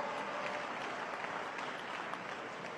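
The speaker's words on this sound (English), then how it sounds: "Give her a round of applause." Audience applause at a 2020 Nation of Islam drill competition: dense, steady clapping from a large crowd that holds at an even level for the whole stretch.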